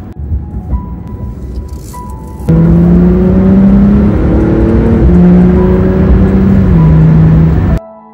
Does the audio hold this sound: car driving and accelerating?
yes